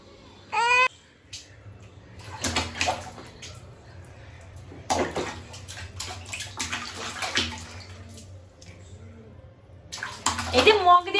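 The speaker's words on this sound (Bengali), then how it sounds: "এই যে মগ দিয়ে স্নান করো" Water is poured from a mug over a child being bathed, with several splashing pours and running water. A baby babbles and cries, and an adult talks in between.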